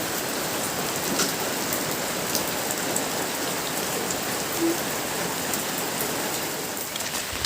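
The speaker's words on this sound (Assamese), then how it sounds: "কিন্তু এতিয়া বৰষুণ পৰি আছে, কেনেকৈ যাওঁ।" Steady, dense rain pours down without a break, a loud hissing wash of drops on surfaces with no voices.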